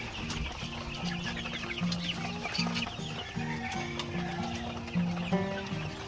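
A flock of chickens clucks and murmurs continuously, with overlapping calls at moderate volume throughout.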